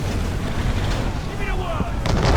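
A sailing warship's cannon broadside fires in Assassin's Creed 3, a loud, rumbling, continuous roar of blasts on the water with wind and a voice heard over it.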